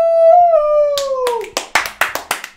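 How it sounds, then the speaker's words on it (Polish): A long sliding tone, like a voice or horn drawing out a fanfare, gives way to a handful of loud, close hand claps in an uneven burst from a few people celebrating the winner of a rap music quiz final. "Brawa! Fanfary!"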